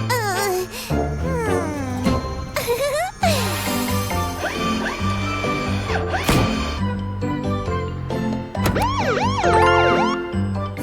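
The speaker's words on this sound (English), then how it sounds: "A siren should attract attention," A cartoon service vehicle's siren wails with rising and falling sweeping tones over bouncy background music, loud and continuous throughout.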